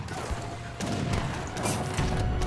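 Mortar fire pounds the segments of a wall in a real-time strategy match, a dense ongoing barrage of booms and crashes blending into the rumbling battle noise throughout.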